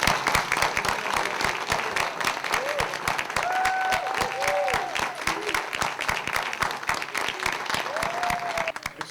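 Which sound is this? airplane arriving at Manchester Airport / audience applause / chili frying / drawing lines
audience applause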